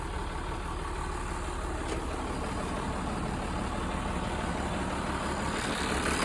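An International Harvester 1086 tractor's diesel engine idles steadily nearby, a continuous low rumble with no talk over it.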